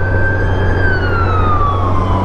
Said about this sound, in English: So technically the ambulance should be going from this road